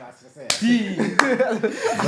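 A sharp, loud slap rings out once, then a second smack follows, with excited voices talking over and around the hits.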